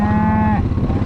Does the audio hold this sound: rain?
no